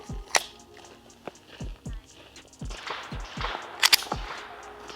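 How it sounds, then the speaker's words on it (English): A pistol slide racked to chamber a round, sharp metallic clacks among a rapid series of short, close snapping impacts, no talk. "I racked it to put one in the chamber."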